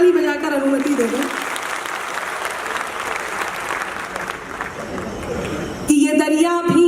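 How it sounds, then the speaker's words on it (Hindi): Audience applause after a request from a Hindi woman poet on stage, a dense steady clapping that fills the room and holds throughout, with a voice speaking briefly over the start and again at the end. "एक बार ताली बजाकर अनुमति दे दो।"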